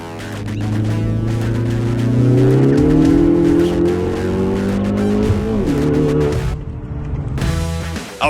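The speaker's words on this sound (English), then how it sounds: "That is his 2017 Ford Focus ST with bolt-on mods." A 2017 Ford Focus ST with bolt-on mods revs hard with its engine note climbing and holding, loud and close, joined by tire squeal before cutting off near the end.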